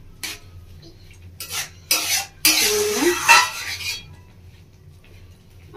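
A spoon stirs eggs around in a pan, several bursts of scraping and clinking against metal separated by short pauses, fairly close and loud, no talking.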